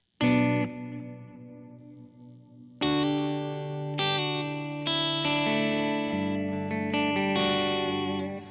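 An electric guitar played through a Kemper natural reverb with a high decay filter rings out in a few sustained chords and notes, each one blooming into a lingering tail, close and clear with no talking.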